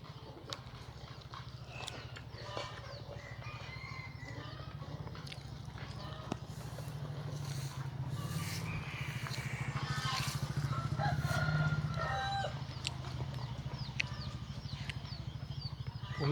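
Free-ranging village chickens let out of their coop cluck and call in a continuous background, with some scattered footsteps and people talking over a steady low hum.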